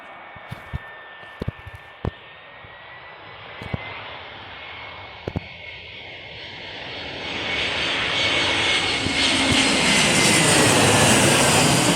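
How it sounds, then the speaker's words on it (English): A large jet airliner at an airport passes overhead as it comes in to land, its engine roar building steadily from distant to loud and broad, with a few sharp clicks early on and no talking. "And we've got a plane landing."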